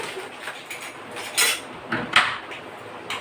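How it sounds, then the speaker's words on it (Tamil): Semolina being roasted in ghee in a pan for kesari, heard as a soft dry rustle under a few sharp metallic scrapes and clinks of a spoon against the pan, close and alone. "நல்லா வறுத்துக்கலாம் ரொம்ப வறுக்காதீங்க"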